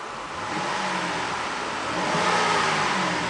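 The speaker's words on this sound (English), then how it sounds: "I'm going to go ahead and rev it" A 2008 Buick Enclave CXL SUV engine revs up steadily and loudly, building in pitch and holding a high, roaring drone throughout.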